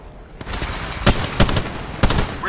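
Gunfire in an Apex Legends ranked match: sharp, loud shots ring out in a few separate bursts over a rumbling background of battle noise, close and punchy.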